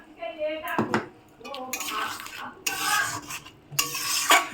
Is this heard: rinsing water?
yes